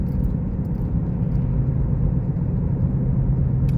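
Inside a 2017 Ford Escape with 62k miles, a transmission shudder in the drivetrain comes through as a steady low rumbling drone with a faint pulsing throb, continuous and fairly loud, with no talking.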